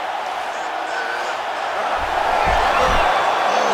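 Arena crowd at a UFC heavyweight fight involving Tom Aspinall roars and cheers steadily, swelling louder in the second half with a few low thumps, while a commentator talks over it.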